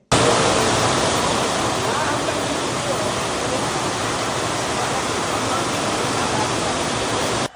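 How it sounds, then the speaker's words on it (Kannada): Heavy rain pours in a dense, steady roar from start to finish, loud and close, with no distinct thunderclaps standing out. "ಇವ ಗುಡುಗ ಎಷ್ಟು ಜೋರ್ ಆಗೈತ್ ಮಳಿ"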